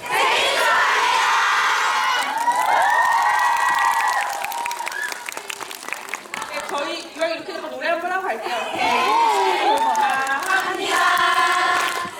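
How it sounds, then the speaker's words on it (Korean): Movie stage-greeting audience at a Bucheon CGV cinema shouting a birthday greeting together, a loud crowd roar with cheers, whoops and applause, and someone speaking over it. "제가 민천상 외치면 생일 축하합니다. 한 번만 외쳐주세요."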